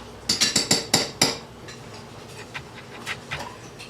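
Spoonfuls of canned tripe clank against dog bowls: a quick run of six sharp metallic taps close by, then fainter scattered clinks and soft scraping, with no talking.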